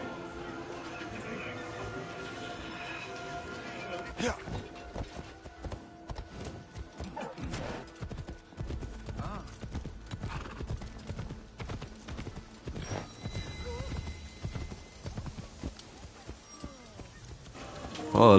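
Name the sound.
horse galloping and neighing in Assassin's Creed Shadows video game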